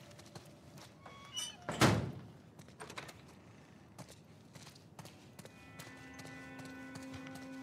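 A single heavy door thud in The Last of Us Part 1, sharp and fairly close, followed by faint scattered footsteps and small clatters in a quiet room.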